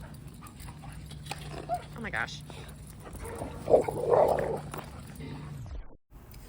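A black dog whimpers and barks during a tense encounter with another dog, short yelps rising over a steady hum while a person exclaims nearby.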